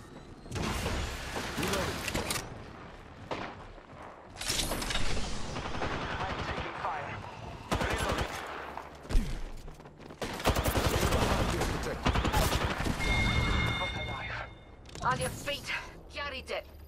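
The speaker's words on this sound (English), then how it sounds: "I'm taking fire." Bursts of automatic gunfire and scattered shots from Apex Legends firefights, loud and rapid with mechanical clicks between volleys, a character's voice speaking over parts of the action.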